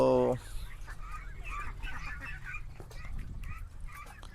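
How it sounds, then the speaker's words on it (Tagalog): Muscovy ducks on a farm give a flock's repeated hoarse calls and honks, fairly close and steady, with faint talk in the background. "Muscovy ducks yung mga yan o."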